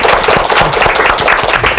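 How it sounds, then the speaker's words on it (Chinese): An audience applauds loudly and close by, a dense burst of many hands clapping that stays steady across the whole short stretch, with no talk over it. "我们给他掌声"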